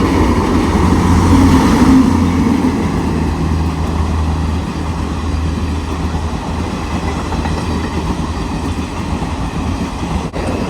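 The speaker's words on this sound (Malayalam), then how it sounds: "യശ്വന്ത്പൂർ കൊച്ചുവേളി ഗരീബ് രഥ് എക്സ്പ്രസ് ആണ്." A Yesvantpur–Kochuveli Garib Rath Express hauled by a WAP7 electric locomotive with a Northern Railway rake rolls past at Kalamassery, a loud steady rumble of wagons and wheels with faint clickety-clack throughout.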